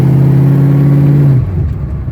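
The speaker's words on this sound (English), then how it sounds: "And the car runs as good as it looks." A Citroen with an automatic transmission drives and accelerates, a loud close steady engine drone that holds level, then drops away as the revs fall near the end.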